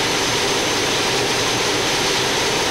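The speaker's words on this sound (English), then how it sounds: "His 2 Isotop Russian turbines building up the revs." Twin Russian Isotov turbines on a pulling tractor at a 1996 European tractor pulling event in Bernay, France, roar continuously at full intensity, a loud, dense, unbroken jet-like rush with no pauses.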